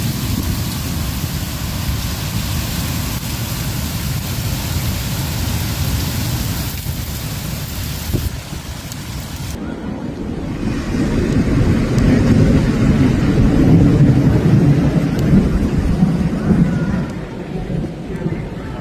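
Steady heavy rain pours throughout a severe thunderstorm in Germany, joined midway by a deep rolling rumble of thunder that swells and lingers.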